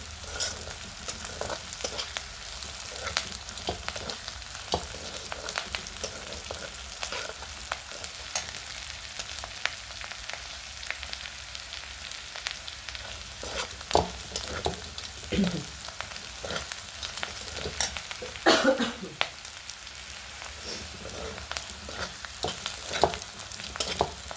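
A spatula stirs a mixture of chillies and yogurt frying in a pan, with steady sizzling and repeated scraping strokes against the metal, close and continuous with no talk.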